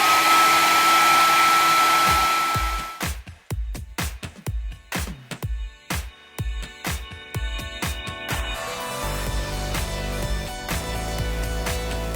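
A hair dryer blows steadily on a silk painting, cutting off into a run of rapid clicks and bumps before whirring back up, loud and close with no speech.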